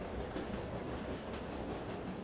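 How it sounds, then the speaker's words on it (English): A steady rumble from a train in a Source engine shooter runs evenly and continuously. The sound is faint and distant, with a soft clatter woven into a broad wash of noise. "I don't like the train sound"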